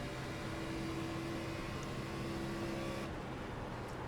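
A race car engine drones steadily at Kentucky in the iRacing sim, an Xfinity car holding a constant, even tone before the pitch shifts slightly near the end, with no talk over it.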